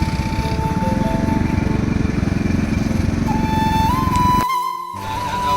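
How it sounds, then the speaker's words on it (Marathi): A road vehicle's engine runs loud and close, a steady rough drone with a rising whine, briefly dropping out before resuming, beside a road under construction near a petrol pump. "त्याने आता तिकडे गाडी सुरू केलं आहे"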